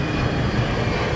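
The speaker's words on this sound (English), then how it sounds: "here we are at London City Airport" Aircraft engine roar at London City Airport, a steady broadband rumble filling the whole moment, loud and continuous with no talk over it.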